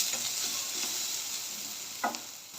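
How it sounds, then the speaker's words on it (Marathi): Finely chopped onion sautés in a pan until golden brown, with a steady close sizzle and a couple of brief stirring scrapes, no voices. "आणि आता ह्याच्यामध्ये मी एक बारीक चिरलेला कांदा ॲड करणार आहे तो देखील मस्त गोल्डन ब्राऊन कलर येईपर्यंत परतून घ्यायचं आपल्याला"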